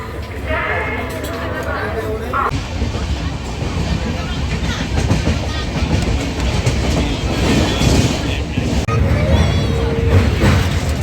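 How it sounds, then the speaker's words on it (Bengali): Tamralipta Express passenger train pulling out and running about half an hour late, steady loud rumble and clickety-clack of the carriages throughout, with people chattering nearby over the rolling noise. "অবশেষে ট্রেনটা এখন ছাড়লো, আধ ঘন্টা লেট করে।"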